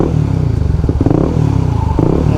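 A Honda CBR 150R fitted with an R9 Zeta-R aftermarket exhaust revs close by, its deep, bassy engine note surging in short throttle blips over a steady rumbling idle.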